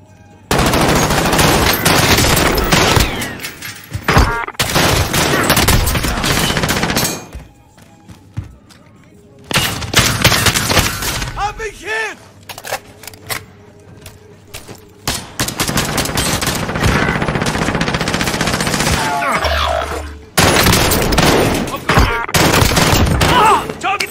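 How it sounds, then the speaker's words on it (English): Bursts of automatic gunfire in the Warzone video game, loud and dense, broken by short quieter gaps and mixed with game sounds, with a player's voice talking in between. "Taking fire! Somebody behind me"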